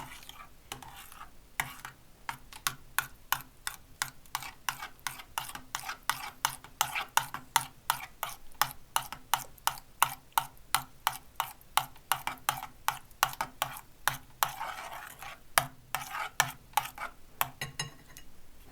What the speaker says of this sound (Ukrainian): Чайну ложку соди. теж гарно перемішати.